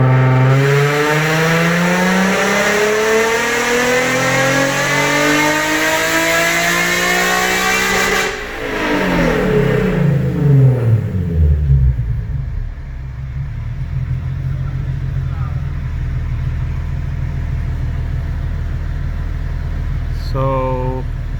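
Single-exhaust Nissan 370Z held at full throttle on a dyno, a loud engine note climbing steadily in pitch for about eight seconds before cutting off, then settling into a lower idle and rollers winding down, with some talk over it.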